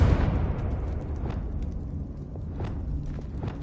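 A Confringo blasting spell explosion in the Hogwarts Legacy video game: a loud rumbling burst at the start that decays into lingering rumble, with a few light thumps after.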